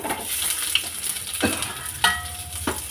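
Chopped onion hits hot oil already holding fried garlic and dried red chili, giving a steady close sizzle with a few stirring scrapes and clatters over about three seconds and no voices.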